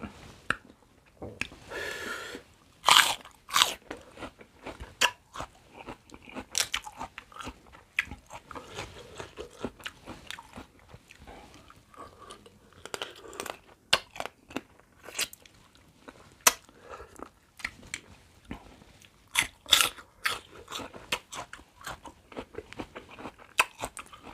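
Fresh blue crab shell cracks and crunches between the teeth close to the mic, with sharp irregular snaps and bites scattered among wet chewing over a long stretch.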